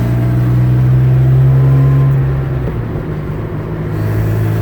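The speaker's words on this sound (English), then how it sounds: "The exhaust, you can hear the baffles rattling inside it." A 1977 Porsche 911S exhaust drones loudly and steadily at idle with a low rumble, faint rattly buzzing from loose internal baffles mixed in, and no voices.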